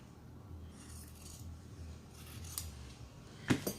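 Scissors snipping paper for a junk journal cover, a soft low rustle building to a couple of brief, sharper cuts near the end, close by and fairly quiet.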